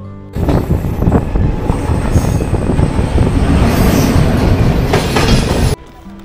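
A passenger train on the Kolkata to New Jalpaiguri route rumbles along the rails, a loud continuous roar with rhythmic wheel clatter and faint squeals, heard from inside a carriage.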